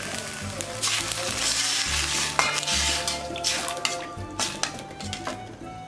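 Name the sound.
stir-frying vegetables in a pan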